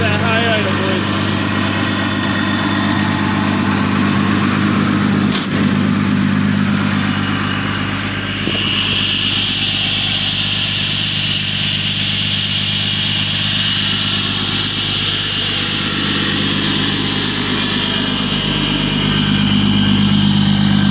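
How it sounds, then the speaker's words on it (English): Diesel Cummins engine in a 2006 Mega Cab manual truck with a big turbo, S&B intake and Sinister Diesel elbow, holding a loud, steady high idle with a droning hum and turbo whistle, close by, with a voice briefly over it. "Oh yeah, there comes that high idle, boys."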